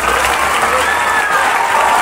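Audience applause, a dense steady clapping from a crowd, loud and continuous throughout with no pauses.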